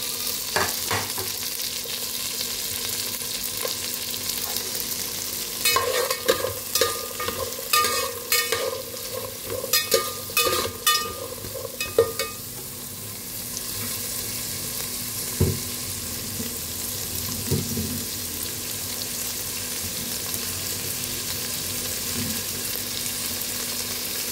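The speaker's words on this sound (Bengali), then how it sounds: "সব একসাথে দিয়ে এটা একটু সামান্য ফ্রাই করে নেব।" Carrots frying in hot ghee in a pan, a steady sizzle running throughout with a cluster of scraping, clattering stirring strokes in the middle and a few softer knocks later; no one speaks.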